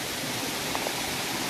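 The Chattupara waterfall in the forest produces a constant, dense rushing roar of falling water, loud and unbroken, with no voices.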